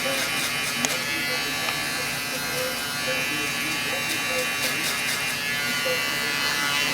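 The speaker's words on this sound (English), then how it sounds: "that's going to be your 5-star electric shaver" A 5-star electric shaver buzzes steadily while cutting hair for a low skin fade, a close continuous hum with someone talking over it.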